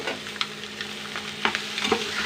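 Vermicelli noodles stirred and fried in a pan for a few minutes, a soft steady sizzle with occasional scraping taps of the utensil, close and fairly quiet, with no talking.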